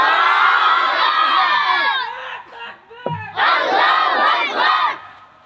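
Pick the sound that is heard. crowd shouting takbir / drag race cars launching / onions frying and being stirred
crowd shouting takbir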